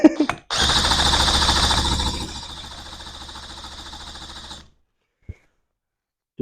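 A Johnson Seahorse outboard motor being revived fires and runs for about four seconds, a loud close buzzing rattle that fades and then cuts out, followed by brief knocks.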